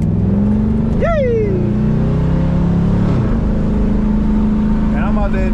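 Engine of a Chevrolet Chevelle SS revving loud and close, a steady low rumble with two quick rising revs, someone talking over it.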